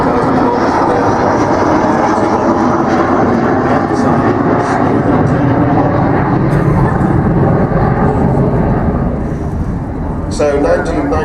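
The Avro Vulcan XH558 bomber flies over Farnborough Airshow with a loud, continuous jet roar, while a commentator talks over it throughout.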